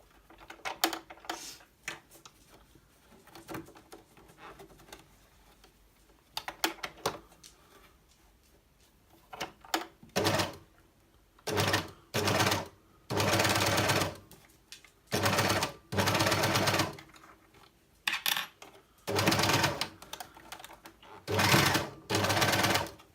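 A sewing machine stitches a rice-filled reusable heat pack, starting with slow, sparse needle strokes and then running in rapid bursts of a few seconds each, separated by brief pauses.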